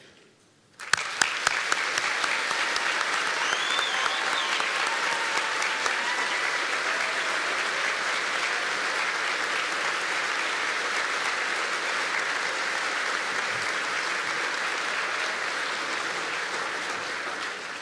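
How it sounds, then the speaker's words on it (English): Graduation ceremony audience at the University of South Wales, Treforest, applauding: sustained, even clapping from a large indoor crowd starting abruptly and continuing steadily throughout. "I also want to give you the chance to clap and thank everyone who has worked so hard"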